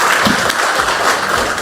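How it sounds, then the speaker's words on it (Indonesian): Dense, steady crowd applause filling the room at a political speech by Megawati, loud and continuous, with faint voices blending in. "Ayo tepuk tangan yang hebat ngono loh."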